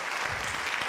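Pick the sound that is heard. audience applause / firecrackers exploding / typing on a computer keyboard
audience applause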